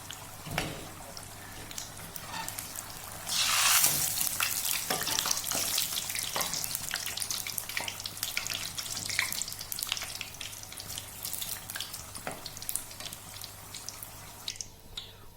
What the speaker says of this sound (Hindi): रोल को फ्राई होते हुए तकरीबन 5 से 6 मिनट गुजर चुके हैं।